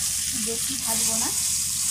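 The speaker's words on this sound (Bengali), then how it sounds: "অল্পক্ষণ ভাজবো" Fresh pond fish frying briefly in a pan, a steady bright sizzle under a voice speaking, close and fairly loud for a couple of seconds.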